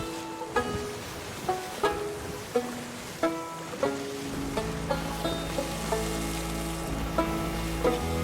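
Shark and megalodon meat sears on a stove aboard a Sea of Thieves ship, a steady sizzle under a series of regular, clinking ticks and chimes.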